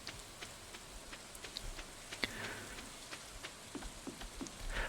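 Soft, steady rain pattering in Stardew Valley, a faint even patter with scattered light drop ticks throughout, heard alone at low level.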